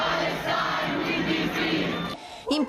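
A large, mixed crowd of families, children, workers and trade unionists chants and shouts together at a march for Palestine in Padua, a loud continuous roar that drops away briefly near the end before voices rise again.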